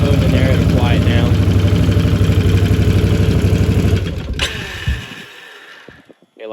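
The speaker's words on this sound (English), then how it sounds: "If you're wondering what the ticking is, that's just valve noise." An engine with valve noise idles steadily with a fast ticking rattle, loud and close, then cuts out near the end with a brief sharp noise.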